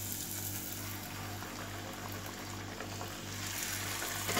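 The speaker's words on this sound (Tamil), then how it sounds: "இந்த மாதிரி ஒன்று ஒன்றா பானிபூரியை போட்டு எடுத்துடலாம்" Homemade pani puri dropping one at a time into hot oil, giving a steady, close, even bubbling sizzle that runs the whole time with no talking.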